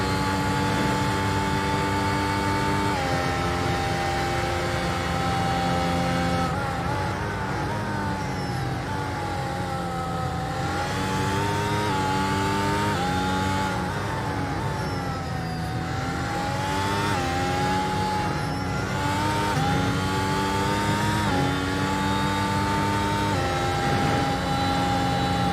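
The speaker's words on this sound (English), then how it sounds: "Here that back end gets really light and the revs go up." An F1 race car at the Connecticut Grand Prix holds full throttle, its engine a loud, continuous high-pitched wail that rises and falls as the revs climb and dip through gear changes, with no talk over it.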